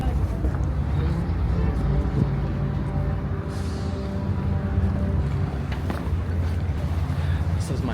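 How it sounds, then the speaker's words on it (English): Ferry boat docking in Istanbul on the Asian side, a constant low engine rumble and wind noise from on board, with people talking nearby. "Somehow I ended up on the wrong boat, which is fine because this one seems to be docking over there"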